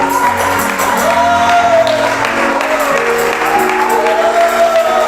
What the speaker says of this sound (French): Les acclamations.